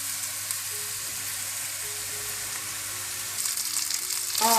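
Boiled noodles hit a hot pan for vegetarian Hakka noodles, setting off a steady close sizzle that swells near the end as stirring begins, with no voices.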